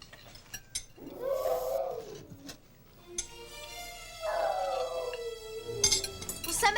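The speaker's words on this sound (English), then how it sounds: "Somebody shut that pooch up before I go crazy." A dog howls in long, rising and falling wails, two drawn-out howls separated by a brief pause, fairly close with faint clinks around.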